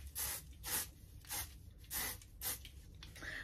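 Several quick bursts of hissing spray from an aerosol can of hair thickening spray, spaced irregularly, close and fairly quiet, with no talking.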